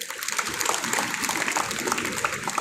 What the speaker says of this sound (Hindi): अगर जोरदार तालियां व्यक्ति के लिए